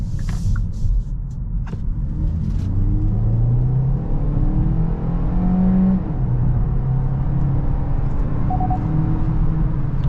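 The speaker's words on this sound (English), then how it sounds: "Let's go ahead and put this thing back in sport mode and do an acceleration right here" A 2023 Kia Niro plug-in hybrid with a 1.6 engine and electric motor accelerates hard in sport mode, a loud steady in-cabin rumble with engine tone rising and shifting through gears.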